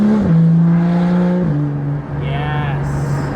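A BMW M car (M2, M3 or M4) with its exhaust valves open rumbles loudly and close up, holding a steady deep engine drone that dips briefly, then settles back into a throaty idle-like tone.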